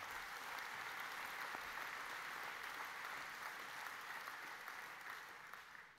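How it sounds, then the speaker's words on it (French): Audience applause fills a hall during the closing session of the 105th mayors' congress: a dense, steady clapping from a large crowd that holds for about six seconds before easing slightly at the end. "Et on peut les applaudir."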